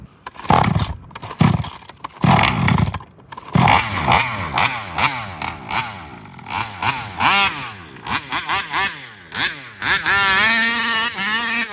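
A Case Taylor 35 engine cranks in a few bursts, catches, then revs up and down repeatedly with rising and falling pitch before holding a steady high-rpm roar, loud and close with no talk.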